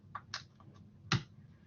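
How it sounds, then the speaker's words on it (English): Numbers are typed on a computer keyboard as a few soft, quiet clicks in an uneven rhythm, ending in one firmer keystroke. "and I'm typing that in"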